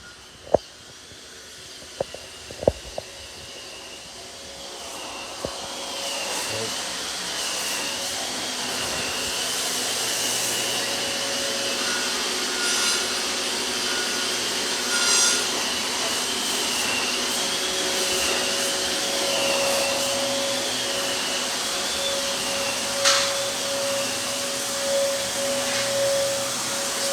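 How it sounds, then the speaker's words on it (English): A concrete grinding machine levels a subfloor during floor refinishing, giving a steady, loud broadband roar with a wavering whine. A few sharp knocks come early on, and no one speaks. "we still need to do this one while they're over there grinding out that concrete"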